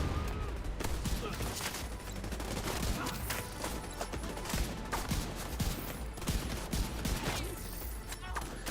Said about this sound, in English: they were rifle shots to the body